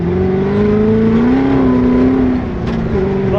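A race car with a dogbox transmission accelerating hard, its loud engine note climbing steadily and then dropping sharply as it upshifts before pulling again, heard close from inside the car.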